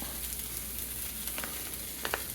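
Mushrooms fry in oil in a pan, a steady close sizzle and crackle with a few brighter pops near the end, no voices.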